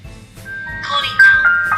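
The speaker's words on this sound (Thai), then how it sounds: "เมื่อมีคนกดกริ่งนะคะ จะมีเสียงเข้ามาที่หน้า มอนิเตอร์ค่ะ" A brief electronic chime from a Dahua video doorbell rings out with bright sustained tones, loud and close, lasting under two seconds.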